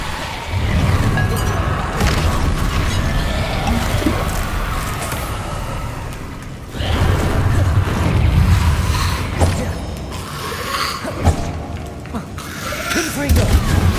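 Confringo blasting spells go off in Hogwarts Legacy, with booming explosions and crashes under a lot of voiced chatter and battle noise.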